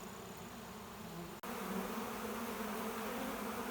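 Thousands of honeybees from a captured wild swarm hum in a dense, continuous drone at a new hive entrance, with one abrupt brief dropout before the buzzing swells back slightly louder.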